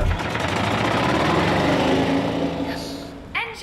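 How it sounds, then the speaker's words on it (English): Submarine engine in the VR game I Expect You To Die starting up and running, a loud steady mechanical drone with a rattling pulse that eases near the end, followed by a brief clatter. "Yes! Engine running!"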